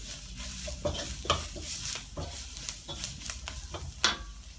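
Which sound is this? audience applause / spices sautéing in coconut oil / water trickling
spices sautéing in coconut oil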